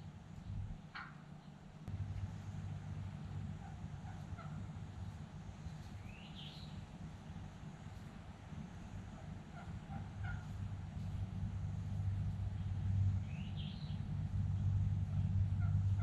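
A wild turkey hen calls from the woods in Florida. Two brief, faint yelping calls sit over steady low engine-like rumble and background hum, and no one speaks.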